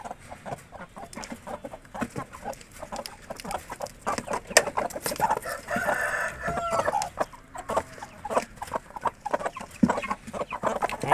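Aseel chickens cluck busily close by while a rooster crows, with a dense run of short clucks and calls across the whole stretch and a louder crow in the middle, with no talking.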